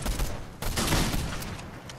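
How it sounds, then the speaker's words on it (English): Gunfire in a trios match of a shooter video game, a dense burst of shots that starts abruptly and keeps going as a rapid, continuous fusillade with no one talking. "Oh, somebody shooting me."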